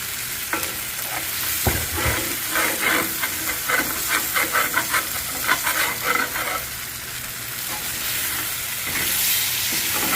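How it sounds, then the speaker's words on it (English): Browned bits are scraped off the bottom of a hot pan while making gravy for biscuits and gravy, a steady sizzle and hiss with rhythmic scraping strokes, close and fairly loud. "we can scrape all those bits off the bottom of the pan before we start adding our half and half"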